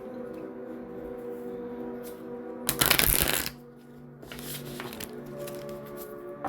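A Moonology oracle card deck being shuffled close by: a burst of crisp riffling cards around the middle, followed by a softer second shuffle, with a faint background hum and no talk.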